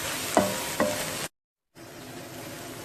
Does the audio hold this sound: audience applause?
no